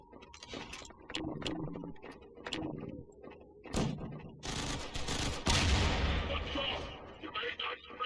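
Bursts of rapid gunfire crack and rattle in the game Entropy: Zero - Uprising, with a few isolated shots and louder sustained volleys, all sounding like video game combat effects.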